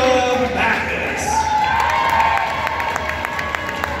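An alumni welcome at an evening event draws a crowd's cheering and steady applause, with scattered whoops and shouts. The sound is continuous and moderately loud throughout.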